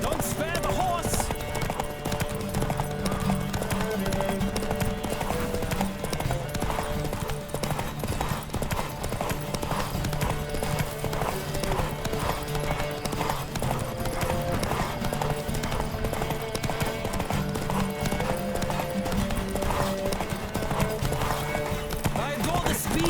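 Horse hooves clip-clop in a fast, steady galloping rhythm throughout in The Witcher 3: Wild Hunt, mixed with game music and occasional voices.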